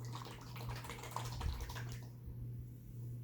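Barium powder being shaken up with liquid in a container, a busy sloshing, rattling wash of liquid sound for about two seconds before it stops, leaving a low steady hum.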